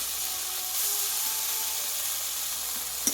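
Soaked moong dal tipped into spices frying in oil, producing a steady, moderately loud sizzling hiss with a small clatter at the very end.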